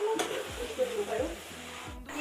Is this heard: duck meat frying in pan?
yes